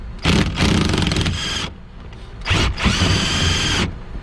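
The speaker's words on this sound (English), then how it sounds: "I have my electric half inch impact gun and an 18 inch deep" An electric half-inch impact gun with a deep socket hammers at a nut on a 2002 Volvo V70 T5 wagon's rear shock mount, giving two loud rattling bursts of about a second each separated by a short pause.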